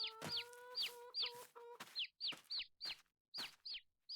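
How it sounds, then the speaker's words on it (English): Chickens clucking in the video game Farming Simulator 22, a quick run of short, sharp calls, fairly close and steady, with a faint tonal hum under the first part. "Lots of chicks running around. Chickens are going to reproduce really quickly."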